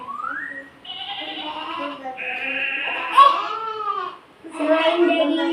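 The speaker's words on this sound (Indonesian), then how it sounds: "Suara domba ya teman-teman." Sheep bleating in a series of drawn-out, wavering calls, close and clear against a quiet background, with a brief pause before a final bleat.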